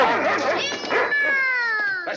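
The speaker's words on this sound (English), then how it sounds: "That dog ain't supposed to be in here." A dog in an old drama film whimpering and yelping in short bursts, then a long drawn-out whine that slowly falls away, close and fairly loud with no talk over it.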